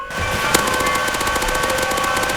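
Rapid automatic gunfire rattles in the Roblox game Mad City, a fast even stream of loud shots with one sharper crack near the start, continuing to the end.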